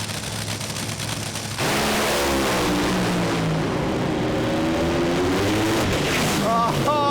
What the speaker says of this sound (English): These are the best conditions we've had today for the Top Fuel dragsters.